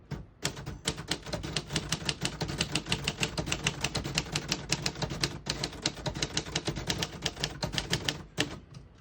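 Rapid, steady clacking of a 1948 Royal Quiet Deluxe portable manual typewriter, keys striking in a continuous fast rhythm, close and loud, with a brief pause near the end.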